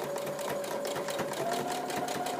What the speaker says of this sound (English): So I will sew this up, and I've only used minimal pins here just to keep the fabric from sliding.